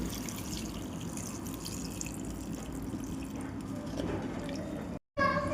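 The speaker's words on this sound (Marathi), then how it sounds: "खजूर, गूळ, चिंच सगळं कुकरमध्ये टाकून आपण पाणी टाकून घेऊ." Water poured into a pressure cooker holding dates, jaggery and tamarind for a panipuri chutney, a steady close splashing pour lasting several seconds before a brief cutoff and some clinking.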